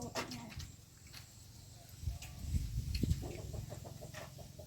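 Chickens cluck close by at a rural Thai rice-field hut, short bursts of clucking with a rooster's calls mixed in, rising louder midway, while people talk over them.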